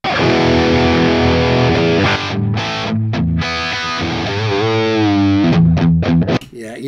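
Electric guitar with a 70s tone runs distorted through a JMP amp, playing loud sustained chords and bends with a thick, saturated crunch that thins briefly in places before ringing out.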